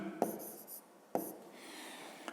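Pen writing an answer by hand on paper, with two sharp taps as the pen lands followed by short scratchy strokes, then a longer faint stretch of writing, close and quiet.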